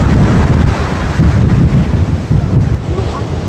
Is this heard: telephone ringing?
no